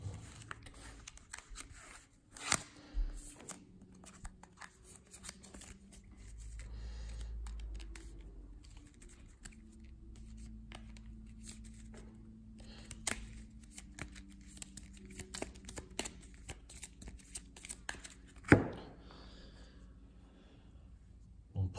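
Cards from the Arkham Horror card game are shuffled and handled at a quiet table, with soft riffling and papery flicks in irregular bursts and a sharper snap near the end.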